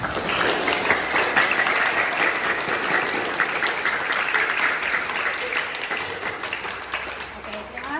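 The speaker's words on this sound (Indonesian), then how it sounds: "Tepuk tangan sekali lagi buat Hani." Classroom applause for a student named Hani after her Quran recitation, a sustained dense wash of clapping from a group that holds steady for about eight seconds and tapers slightly near the end.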